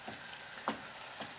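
Fish pieces stirred and fried in a pan until the flesh turns white, a steady soft sizzle with a few brief scraping stirs, close and fairly quiet, no talking.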